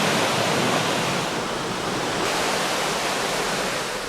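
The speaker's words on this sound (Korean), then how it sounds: "오로지 폭포 소리에 귀 기울여 마음 비워보는 시간" A steady, full roar of falling water, continuous and unbroken, like a waterfall heard up close with no other sounds.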